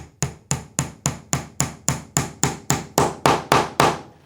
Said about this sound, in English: hold it in place, and lightly tap it in.